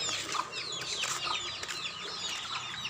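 Chickens cluck and chatter continuously at close range, with a few sharper calls and occasional wing flaps, with no voices.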